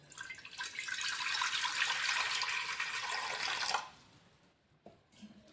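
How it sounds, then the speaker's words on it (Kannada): Water runs steadily into a pressure cooker for several seconds, a close, rushing pour that stops abruptly, followed by a faint clink and quiet handling sounds. "ಕುಕ್ಕರ್ದಾಗ ಸ್ವಲ್ಪ ನೀರು ಹಾಕಿ"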